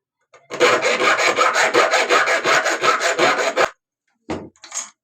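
A screwdriver slot is cut into an electric iron part with rapid, even back-and-forth rasping strokes, about a dozen in a row, then a pause and a few final short strokes, close and loud.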